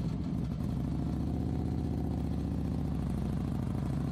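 A motorcycle engine hums steadily at low, even revs while coasting downhill on a winding road from Sindhuligadhi toward Khurkot in Nepal, close and continuous with no talk.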